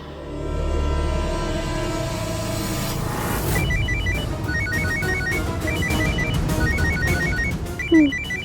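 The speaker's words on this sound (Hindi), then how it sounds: "किसी का फोन बजा ना?" A phone ringtone chirps in repeated short melodic bursts, fairly loud and steady, over a busy background of music and noise.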